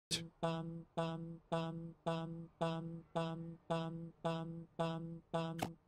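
A repeating alarm in the video game My Singing Monsters, sounding about eleven evenly spaced harmonic beeps, each roughly half a second long, loud and steady with no talk over them.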